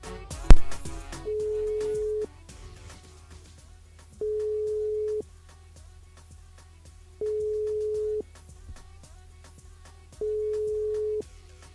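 On a call placed during a live radio show, a phone line sounds a steady tone in four evenly spaced pulses of about a second each, separated by pauses of quiet line noise, after a brief click at the start.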